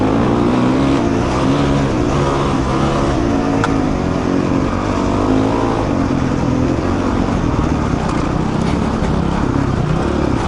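Honda CRF450X dirt bike engine held near wide open throttle on a rocky, sandy trail, a loud, steady close-up roar with a dense, rough drone that runs the whole way through with no pauses.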